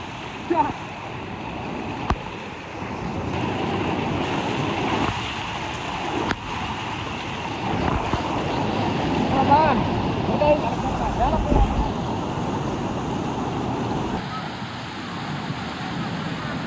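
Water rushes over the Kalingarayan dam weir on the Bhavani river, a steady, full-bodied roar that holds loud from start to finish. A voice speaks over it in places.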